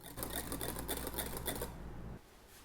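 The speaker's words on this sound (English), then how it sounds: "Whisk vigorously to incorporate lots of air." A whisk beats sour cream and powdered sugar vigorously in a bowl, a fast close whirring, tapping churn for about two seconds before stopping into quiet.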